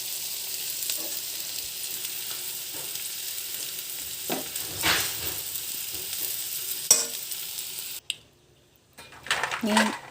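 Onions sprinkled with salt fry and are stirred in a pan for chicken biryani, giving a continuous sizzle with intermittent scraping strokes before a brief pause and a burst of clatter near the end.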